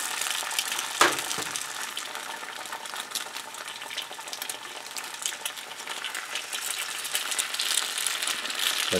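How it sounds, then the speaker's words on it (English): Eggs fry in a pan with a continuous close sizzle and crackle, steady throughout, with one brief knock near the start and no talking. "Let that fry for a while."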